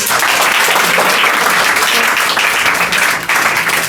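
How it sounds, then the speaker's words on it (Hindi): Audience applause at the close of a Class 10 science lesson on mirrors, a loud, dense wash of clapping that holds steady for about four seconds with no talking. "एक बार ताली बजा दीजिए"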